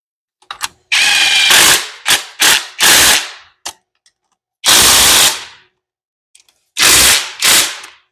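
A small power tool rattles in several sharp, loud impact bursts while tightening reluctor wheel bolts on a Ford E4OD transmission, the bursts separated by short pauses with no talking.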